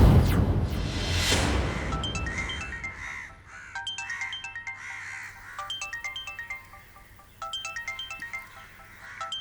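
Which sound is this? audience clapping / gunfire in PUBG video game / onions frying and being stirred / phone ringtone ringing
phone ringtone ringing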